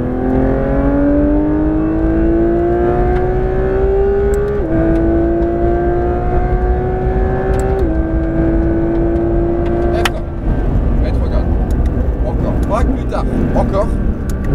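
A Porsche 992 GT3 RS accelerates at full throttle on the Circuit Fontenay-le-Comte track. Its engine note climbs sharply, drops with each of three quick upshifts and climbs again, loud and close, while a voice speaks over it.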